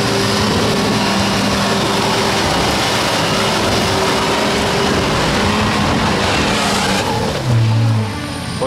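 An off-road vehicle climbs a steep mountain slope without stopping, its engine loud and close under sustained throttle, with tires churning and a brief heavier rumble near the end.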